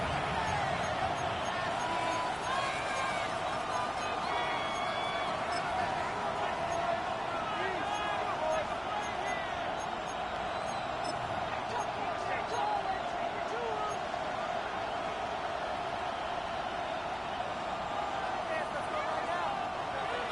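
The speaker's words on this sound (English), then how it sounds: "This crowd trying to be a factor, getting very loud now." A packed football stadium crowd at a Browns vs Bengals game roars steadily late in the game, a loud continuous wash of noise with faint whistles and shouts beneath a commentator's voice.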